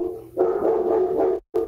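A pet dog barks close by, one sustained bark-like burst followed after a short gap by another brief yelp, heard alone.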